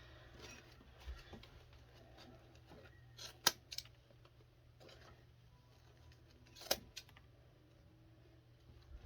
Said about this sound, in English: Trim that one just a little bit more.